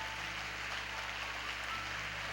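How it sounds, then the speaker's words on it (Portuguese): Church congregation applauding together, a dense, steady wash of clapping hands that fills the space evenly without pause. "Dá uma salva de palmas bem forte para Jesus então."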